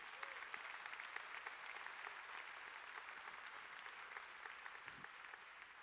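A church congregation applauds at a Sunday service, a sustained, even wash of clapping from many hands that sounds somewhat distant and fairly quiet.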